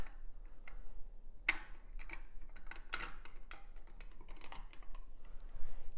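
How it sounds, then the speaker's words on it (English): A knife slices limes on a kitchen board and the fruit is squeezed for juice while making honey lime chicken, giving sharp close cutting clicks and soft wet squelches in an irregular pattern. "We'll just cut and juice these limes."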